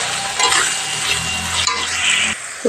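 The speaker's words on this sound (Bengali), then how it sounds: "একটু নেড়ে নেবো, দিয়ে এবার ভাজা ভাজা করে নেবো।" Prawns and onions are stirred and fried in a pan, giving a steady close sizzle with spatula scrapes and light clinks against the metal, and no talk.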